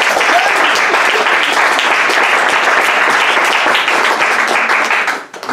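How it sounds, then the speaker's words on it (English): A church congregation bursts into sustained applause during a sermon, a dense, steady wash of many hands clapping at full volume before tapering off at the very end. "Let's clap hand for the Jesus"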